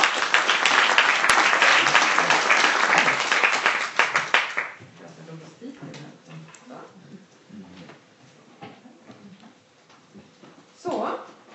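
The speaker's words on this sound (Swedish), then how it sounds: "En applåd." A crowd applauds as a speaker takes the stage at a business chamber industry event, loud dense clapping for about four seconds that thins to scattered claps and fades, followed by a short burst of talk.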